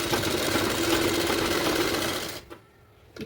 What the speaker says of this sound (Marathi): आता हा आपण मी इथं धागा पॅक करून शिलाई मारतो